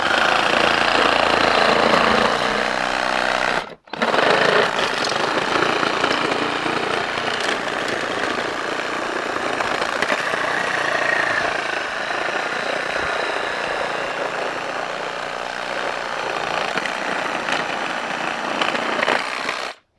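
A Bosch cordless reciprocating saw cuts through a thick ordinary wooden pallet. The motor whines loud and close in a steady, continuous buzz, broken by one brief stop before it resumes and runs to the end.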